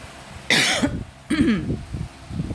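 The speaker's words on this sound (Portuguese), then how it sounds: "me desculpa pela tosse" Two harsh coughs from an irritated throat sound up close, one after the other, followed by a few softer throaty noises.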